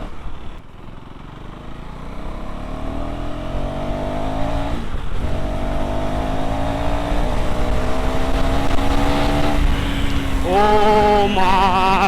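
A KTM Duke 390 motorcycle's single-cylinder engine pulls hard through rising revs, its pitch climbing steadily before a brief dip and a sharp higher rev near the end, loud and close.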